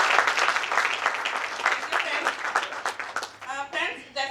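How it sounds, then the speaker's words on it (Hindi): Audience applause at a business seminar in Delhi, a dense spread of claps running steadily before thinning out, with voices talking over it near the end. "प्लीज जोरदार तालियां।"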